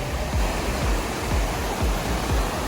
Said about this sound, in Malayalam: ഫുള്ള് വെള്ളം വന്നുകൊണ്ടേയിരിക്കുക